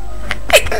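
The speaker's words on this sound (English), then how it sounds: "I need to sneeze" A person's sneeze, a short sharp burst of breath at the end following a small gasp-like intake, close and fairly loud in a quiet room, with no talking around it.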